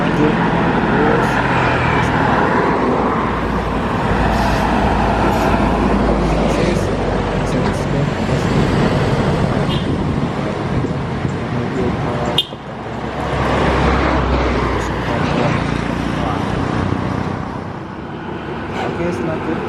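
A Sumatran intercity bus on the Pekanbaru route rolls by on a bumpy road, its engine and tyre roar loud and steady for most of the stretch, dipping briefly before surging again, with someone talking over it.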